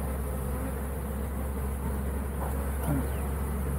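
Bees buzz continuously around an open top bar hive, a dense steady drone heard close and fairly loud, with faint outdoor background and no talking.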